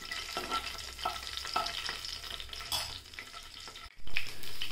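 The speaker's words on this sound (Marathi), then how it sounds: "मोहरी तडतडली की आपण कढीपत्ता टाकूया, लसूण टाकूया।" Mustard seeds, curry leaves and garlic sizzle and crackle in hot oil for a radish dal, a steady close frying hiss with small pops, stirring scrapes and a brief clatter near the end.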